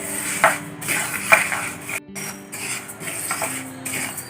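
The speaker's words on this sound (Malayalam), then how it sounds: "അപ്പോൾ നമ്മളിത് കൈവിടാണ്ട് ഇളക്കിക്കൊണ്ടിരിക്കണം കേട്ടോ" Sesame seeds being stirred through melted jaggery in a pan, a soft steady scraping and shuffling with two sharper clinks of a spoon against the pan early on, close and continuous.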